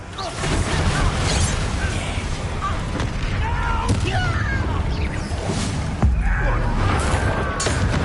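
Confringo fire spell blasting in Hogwarts Legacy combat, a dense, continuous roar of booming impacts and crackling magic, with a sharp extra burst about six seconds in, loud and sustained throughout.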